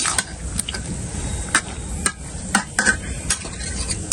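Taro and fish being sautéed in a pan, with soft sizzling under repeated stirring scrapes and sharp metallic clinks of a utensil against the pan at an irregular rhythm, close and fairly quiet.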